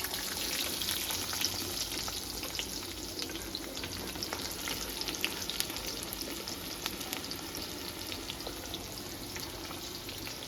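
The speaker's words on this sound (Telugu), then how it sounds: "ఆయిల్లోనే ఆవాలు జీలకర్ర వేసుకుందాం తర్వాత తరిగి పెట్టుకున్న ఉల్లిగడ్డలు వేసుకుందాం" Mustard seeds, cumin and chopped onions fry in hot oil for a Telugu brinjal and dried fish curry, a steady dense sizzle with faint stirring and crackles running throughout, no voices.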